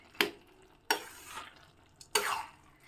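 Whole green chilies tumble into simmering dal in a pan and get stirred, giving three sharp scraping clatters of a spoon against the pan with a soft bubbling hiss between them, close and with no talk.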